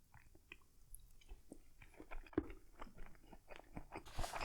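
Close, wet chewing and soft crunchy bites on a pork dumpling dressed with chili oil, irregular mouth sounds repeating for several seconds with no talk.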